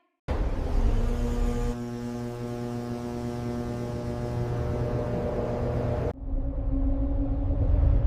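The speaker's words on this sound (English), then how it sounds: "Engine start scheduled in 30 seconds." A jet engine's first start-up, heard from close by as a loud, steady roar with strong tonal whine layers that build, then shift abruptly to a lower, rougher rumble near the end.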